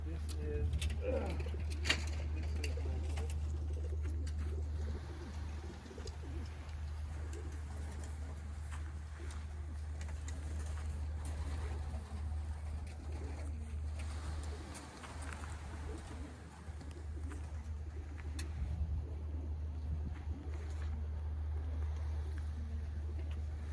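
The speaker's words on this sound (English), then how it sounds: "So these are your 400-mile race birds flying around." Racing pigeons, 400-mile race birds just released from the loft after a day of sorting, coo and call around the area. The birds are heard steadily over a constant low hum, with occasional faint human voices.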